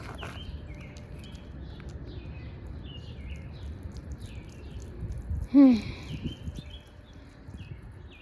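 Small birds chirp on an outdoor morning walk, scattered high tweets over a low background rumble, with one brief louder sweeping call standing out near the end.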